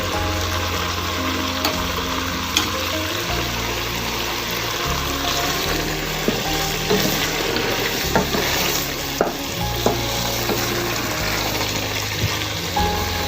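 Egg halwa roasts in a pan as ghee goes in, with a steady loud sizzle and repeated scraping stirs close up and a low hum underneath, no voices.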